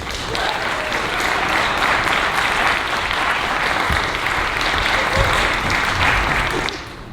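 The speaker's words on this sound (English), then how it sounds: "Please give a warm round of applause to the brilliant Dr. Salamishah Tillet" Warm, steady audience applause welcoming a speaker at an MLK Day author talk, dense clapping holding for several seconds before fading slightly at the end.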